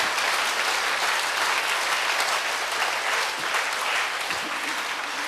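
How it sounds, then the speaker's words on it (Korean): A church congregation at a Korean Sunday worship service claps together in steady, even applause, a continuous hiss of hands that holds for several seconds at moderate distance. "박수로 주님께 영광 돌립니다"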